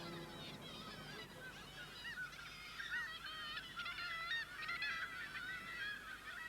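A chorus of kittiwakes nesting in a town calls harshly and repeatedly, many overlapping cries forming a busy, continuous colony din.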